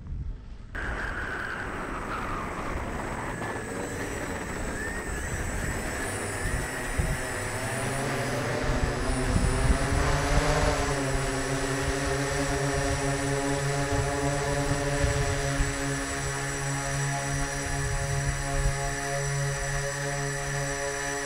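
A StriverMini VTOL quadplane flies past and comes in to land, its steady electric motor and propeller drone holding for a long stretch, swelling slightly as it passes close and then continuing evenly.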